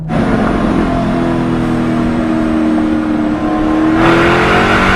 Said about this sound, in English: The sound or the note of the exhaust is kind of a reference of when you want to shift almost